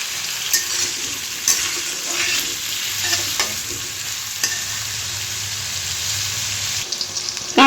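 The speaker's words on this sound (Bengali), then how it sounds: "এরপর কাঁচকলাগুলোকে ভেজে নেব।" Pieces of green plantain fry in a wok for a Bengali dudh shukto, making a continuous loud sizzle with occasional clinks and scrapes of stirring, and no voices.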